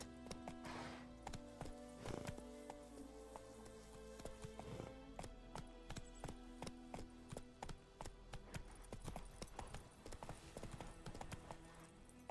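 Roach the horse in The Witcher 3 gallops, hooves clip-clopping in a steady, quick rhythm on a quiet, faint bed of sound.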